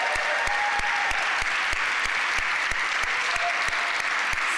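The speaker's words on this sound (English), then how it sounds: "Can we get one more round of applause to all of our amazing performers?" An audience at a poetry reading applauds the performers, dense continuous clapping from a crowd that stays steady and full for the whole stretch, with no voices over it.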